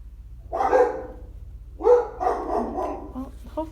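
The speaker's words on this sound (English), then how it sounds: "hopefully they'll stop barking soon" Dogs bark in two bursts close by, a loud yelp followed after a pause by a longer run of barks, over a steady low hum indoors.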